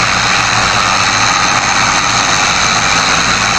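An HMT 5911 tractor engine runs loud and close, a constant heavy diesel drone with low chugging throb that holds steady for the whole stretch, no voices over it.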